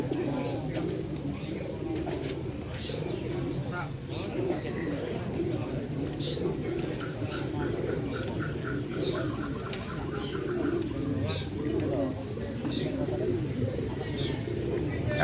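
Pigeons coo continuously amid the bustle of a bird market in Semarang, with soft layered calls close by and people talking in the background throughout.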